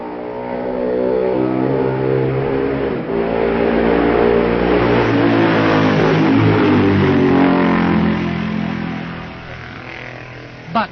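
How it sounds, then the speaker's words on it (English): A Norton racing motorcycle at the 1965 Isle of Man TT roars past Ballaugh Bridge, its loud engine note swelling and shifting in pitch before fading away. "On lap 3 at Balig Bridge, Griff Jenkins is fourth on his Steve Lansfield Norton"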